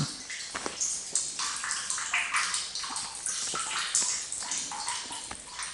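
Maple sap dripping and trickling into a collection tank from a 25-tap sap line, a steady run of close, irregular splashy drips and small trickles with no talking.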